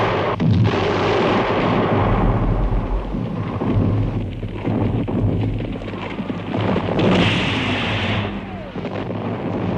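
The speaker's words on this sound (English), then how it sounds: "The clamor of the guns continued." World War I artillery guns firing in a continuous loud rumbling barrage of overlapping booms, with dense low thunder-like roars and no clear gaps between them.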